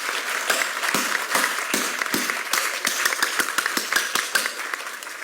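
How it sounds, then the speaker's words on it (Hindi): A group claps hands in quick, steady repeated beats at an International Yoga Day celebration, loud and close, a continuous brisk rhythm of sharp slaps with no talk over it. "मारो मारो, ताली मारना भी अच्छा है"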